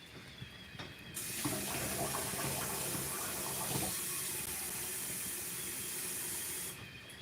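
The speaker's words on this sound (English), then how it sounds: "Let's add a little more water to the sorghum." Water poured into a pot of cooking sorghum, a steady hissing stream that starts abruptly after a faint start, runs evenly for several seconds, then stops.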